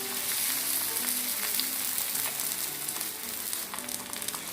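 Dhapate flatbread fries in oil in a pan, a steady bright sizzle running close and continuous with faint stirring scrapes and no talk.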